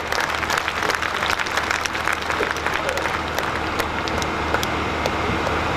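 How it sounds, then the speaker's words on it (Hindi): Steady applause from an audience at a comedy poetry gathering fills the whole stretch, dense and continuous, with a few louder claps standing out and faint voices underneath. "एक बार जोरदार ताली बजाए।"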